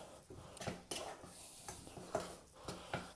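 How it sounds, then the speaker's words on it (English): Faint, irregular clinks and scrapes of a utensil against a bowl as chopped tomatoes, onion and warm potatoes are stirred with butter and oil, with soft rhythmic strokes and no speech. "We're just going to give that all a nice stir"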